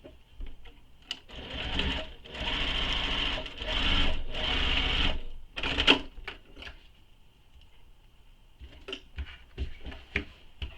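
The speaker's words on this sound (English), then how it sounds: "pinning it in place, and sewing across the bottom" A sewing machine stitches across the bottom of a card slot piece pinned onto a fabric backpack, running in steady bursts of rapid mechanical clatter with short pauses, then a few lighter clicks and taps near the end.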